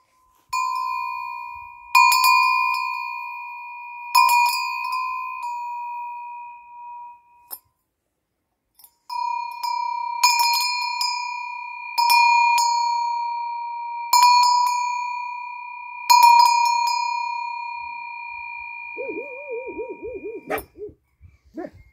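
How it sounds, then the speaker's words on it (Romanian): Small bells for sheep ring in repeated bright, sustained tones, struck several times with short pauses, close and clear, ending in a brief lower wobbling sound. "Să vă arăt și cum uh, sună clopotele."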